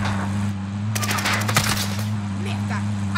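Rapid automatic gunfire in the Call of Duty: Modern Warfare Warzone video game, a short burst of quick repeated shots lasting about a second over a steady game background hum.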